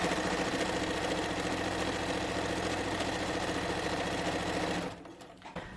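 A sewing machine runs continuously and loudly, close by, stitching a fabric scrunchie with a fast, even mechanical chatter that stops abruptly near the end.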